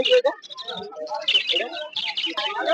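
Small finches and java sparrows chirp and tweet at an Uluberia bird market, bright calls layered densely and continuously, with someone talking over the chatter.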